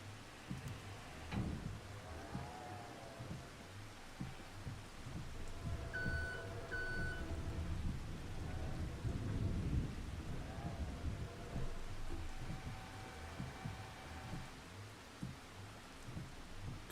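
Rain patters steadily outside with low rumbles of thunder in the Farming Simulator 25 farm game, soft and distant, with a brief sharper crack early on and faint mechanical tones in the background.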